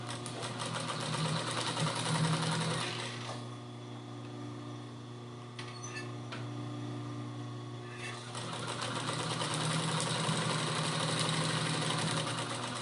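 Home sewing machine running steadily while stitching a makeup bag, with a pause in the middle before the motor whirs again; a close, continuous mechanical hum with backstitching, no talk.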